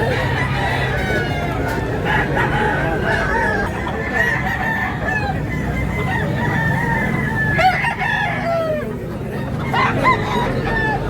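At a gamefowl market in Tabunok, Talisay, Cebu, roosters crow loudly and repeatedly, some close and some farther off, over steady clucking from many chickens and a murmur of people talking.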